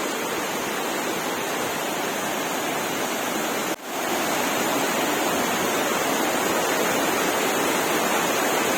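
A waterfall rushes beneath a small footbridge, a dense continuous roar with steady broadband hiss close by, no voices, and a momentary dip midway before the flow resumes.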